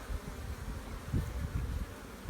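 Honey bees from a small nuc hive split buzz steadily around the open box, a dense close hum with slight swells and no talking.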